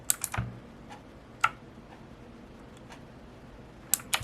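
Several keys are pressed on a Rampage Ardor gaming keyboard, giving sparse, crisp clicks spaced irregularly over a quiet background, with a quick pair at the start and another near the end.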